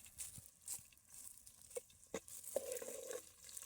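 Faint sizzling of cumin seeds frying in hot oil, with soft crackles and a few light stirring scrapes, quiet and close.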